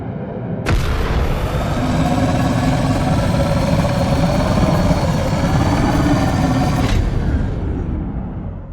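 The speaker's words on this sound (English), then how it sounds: "When boosting, the thruster and texture layers crossfade over to their fast versions, and back again when boost is released." A synthesized spaceship thruster boost built with Unreal Engine Metasounds: a loud, dense roaring rush that kicks in abruptly, holds steady for about six seconds, then cuts off.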